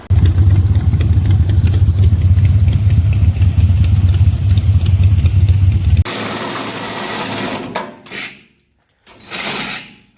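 A car engine hums loudly and steadily for about six seconds while driving, then cuts to quieter, broken noise with short bursts and gaps.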